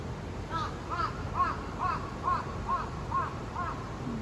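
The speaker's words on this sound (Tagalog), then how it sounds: "May mga uwak talaga." Crows cawing in Nakajima Park, Sapporo, a series of about eight evenly spaced caws at moderate distance over steady outdoor background noise.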